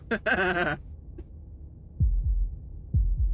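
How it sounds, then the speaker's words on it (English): Heartbeat effect from the game Slay the Princess: two pairs of deep, thudding double beats, loud and close, after a short bleating cry at the start. "That was the sound of a heartbeat,"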